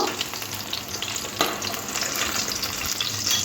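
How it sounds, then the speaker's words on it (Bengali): Steady, dense sizzling of eggplant pieces frying lightly in hot oil, close and continuous, with faint scraping of stirring. "বেগুন একটু হালকা করে ভাজবো বেশি লাল করে ভাজবো না"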